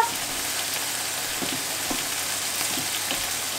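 Steady, loud sizzling of grilled vegetables cooking in a hot pan for a barley salad, with a few soft scrapes as they are stirred.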